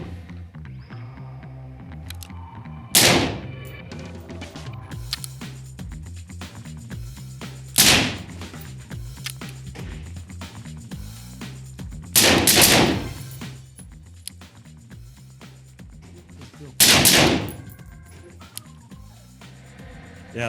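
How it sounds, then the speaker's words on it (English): Four sharp gunshots ring out at a shooting range about every five seconds, each a loud crack over quiet background noise, with occasional faint clicks and brief talk between shots. "Get some rounds on target."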